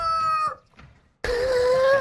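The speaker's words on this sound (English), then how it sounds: "I just heard a chicken. A rooster." A rooster crows in the video game Warzone 2.0, a loud, near cock-a-doodle-doo cut off abruptly, then after a brief silence another sustained crow begins.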